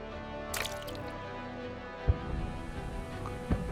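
Water drips from the still-wet ends of ancient stone channel spouts at the Lycian site of Andriake, heard as a few sparse, distinct plops over a soft background, fairly quiet with no speech.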